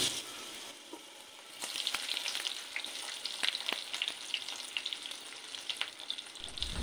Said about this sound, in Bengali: পেঁয়াজটা আমি মিনিট 2 ভেজে নিচ্ছি